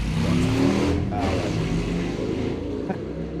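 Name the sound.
loud car revving as it drives down the street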